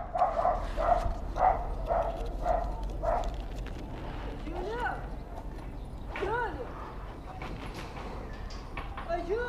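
A dog barks in a rapid series of loud yelping barks, then more scattered barks and whines, while people talk throughout.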